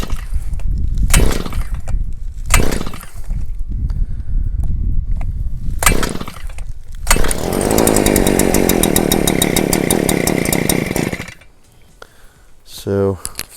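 A Harbor Freight Predator auger powerhead, set on choke, is pulled several times before its small engine catches and runs loudly and steadily for a few seconds, then cuts out and drops to quiet.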